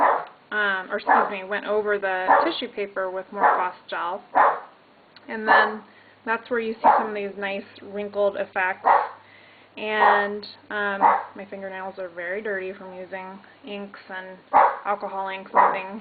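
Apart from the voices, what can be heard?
dog barking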